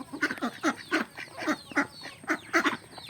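Ducks and chickens feeding together on a poultry farm where aseel chickens are kept, with a steady run of close, rhythmic quacking and honking calls repeating about every half second, no talk.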